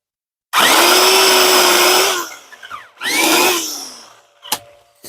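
A Black + Decker Alligator electric lopper whines loudly as it bites through a tree branch, one long cutting run with a pitch drop, a short pause, then a second shorter cut and a couple of clacks.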